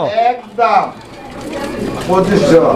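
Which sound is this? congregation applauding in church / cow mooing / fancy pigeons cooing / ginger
fancy pigeons cooing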